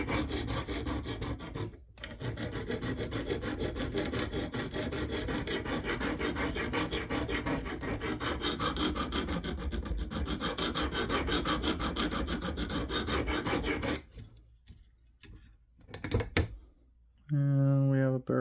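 Steady rasping strokes of a Knafs Lander 4 blade drawn across a stone on a KME guided sharpener, continuous for about fourteen seconds, then a few brief scrapes with pauses and a short final burst.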